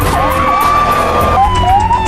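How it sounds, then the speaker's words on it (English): A police car siren wails with sweeping rising and falling tones over a dense, loud background of rumble and noise. "After hearing the siren of the police car, Fowler felt the upper hand."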